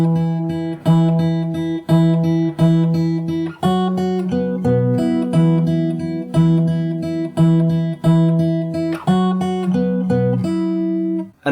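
Fingerstyle acoustic guitar plays the intro of a song, with plucked bass notes and melody moving in a steady repeating pattern, close and clear, no voice.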